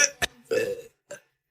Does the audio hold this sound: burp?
yes